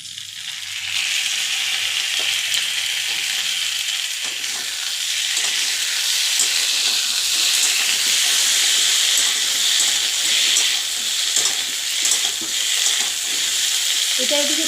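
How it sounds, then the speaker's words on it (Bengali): Chopped tomatoes frying in a pan of oil with cumin and bay leaf, a loud, steady sizzle with occasional stirring scrapes, close up and without talk. "লাল লাল করে ভাজা হয়ে গেলে তার মধ্যে আমি কেটে রাখা টমেটো দিয়ে দেবো।"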